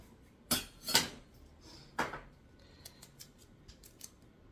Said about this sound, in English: I'm going to use my utility scissors to cut this